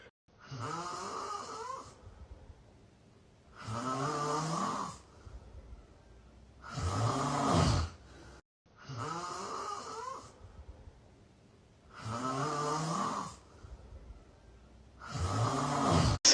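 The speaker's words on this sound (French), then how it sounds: "Ça, c'est moi en train de ronfler." A person with a blocked nose snores in steady cycles, six rough nasal rasps about every two seconds with quiet pauses between, close and alone.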